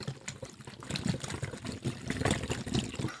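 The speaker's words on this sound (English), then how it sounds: "making sure the bubbles are steady rather than the hiss" Steady bubbling as air is blown through a straw into water with a Dr. Vox voice-training device, a continuous close gurgle with no talking.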